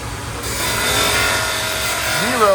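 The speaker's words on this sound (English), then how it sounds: "I'm going to barrel sand it a little bit." Barrel sander grinding down a welded metal part, a steady, close abrasive rasp that starts just after a short pause and holds until a rising whine of the tool at the very end.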